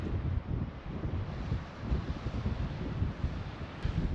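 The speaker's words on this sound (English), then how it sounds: "Well, it's cold and windy" Gusty, cold wind buffets the microphone in low rumbling bursts at a lakeside, steady and close, with no voices.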